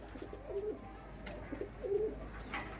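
Punjabi baby pigeons cooing, a few soft rolling coos repeated close by against a quiet background hum.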